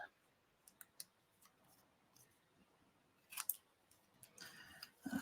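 Scissors snip through the edge of cardstock while a handmade card is trimmed. A few sharp, quiet clicks are spread apart, followed by a closer cluster of cuts near the end.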